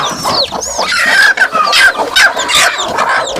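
Free-range village hens cluck and chatter close by, among newly hatched chicks, with overlapping bird calls and a busy, continuous farmyard din throughout.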